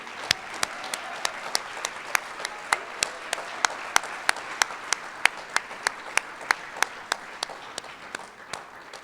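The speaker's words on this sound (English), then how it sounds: "A round of applause for our inductees you see before you." An audience claps for National Honor Society inductees at a high school induction ceremony, a steady medium-sized round of applause lasting about nine seconds with sharp individual claps standing out from the crowd.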